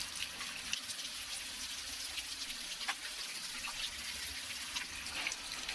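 Water runs steadily from a tap over dug-up metal finds being gently washed of dirt, a continuous soft hiss and splash with faint drips, fairly close and alone.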